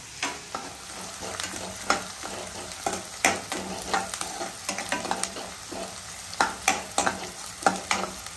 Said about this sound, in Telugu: ఉల్లిపాయలు రంగు మారే వరకు వేసుకోవాలి